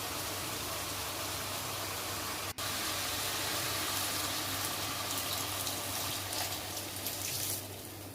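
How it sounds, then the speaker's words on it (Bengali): Water pours steadily into a pan of fried chicken curry to make gravy, a continuous hiss of running liquid with a brief break partway through, tapering near the end. "ঠিক তখনই আমি এর মধ্যে ঝোলের জন্য পানি ঢেলে দেবো"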